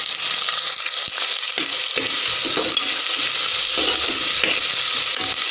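Chopped onions and green chillies sautéing in an oil-filled pan for a soya chunk biryani, a steady close sizzle with occasional stirring scrapes and clinks, no talk.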